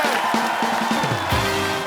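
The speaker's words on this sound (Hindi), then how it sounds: "और नाम के लिए जोरदार तालियां" Television comedy show studio audience cheers and applauds loudly, with whoops and shouts riding over dense clapping and a tonal musical sting underneath.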